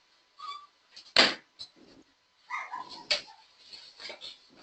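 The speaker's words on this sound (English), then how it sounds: "Why is she barking?" A pet dog indoors lets out a few short, sharp barks and yips with brief whimpering between, close by and fairly loud, alone without talk.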